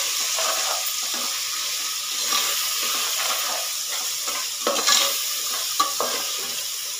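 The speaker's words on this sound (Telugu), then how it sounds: "ఫ్రై అయింది అల్లం వెల్లుల్లి పేస్ట్ కూడా." Ginger garlic paste fries in oil in a pan as the base for a mutton curry, with a steady close sizzle and occasional spatula scrapes and taps against the pan. No one speaks.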